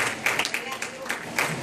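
A church congregation claps together in a dense, steady patter, with voices mixed in beneath the applause.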